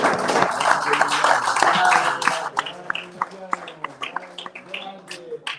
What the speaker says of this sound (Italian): c'è l'applauso del pubblico che è qui presente